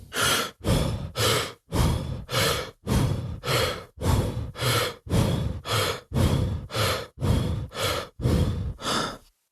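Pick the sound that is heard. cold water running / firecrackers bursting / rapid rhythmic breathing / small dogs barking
rapid rhythmic breathing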